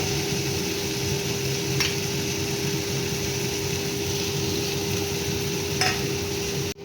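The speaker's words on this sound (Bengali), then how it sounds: "ভালো করে মশলাটাকে কষিয়ে নেব।" Spice paste stir-fried in a pan for a Bengali cauliflower curry, a steady close sizzle and frying hiss with a constant hum underneath and a couple of soft scrapes of the spatula.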